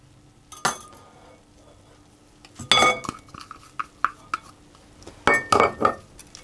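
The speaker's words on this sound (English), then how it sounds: "and whisk that around as well" Parsley and cheddar cheese whisked into a quiche filling for a pancetta and leek quiche: sharp clinks of a metal whisk against a bowl come in irregular bursts, close and clear, with quieter gaps between.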